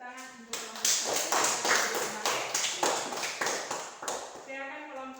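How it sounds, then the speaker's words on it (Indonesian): Students in a classroom clap in a quick, steady rhythm for a group, the close, sharp claps coming in even bursts with a voice heard briefly before and after. "tepuk tangan untuk kelompok"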